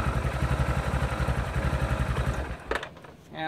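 A Kymco UXV 500i utility vehicle engine runs after a fuel pump replacement, idling with a steady, close, pulsing chug before a brief clatter and a short dip in level.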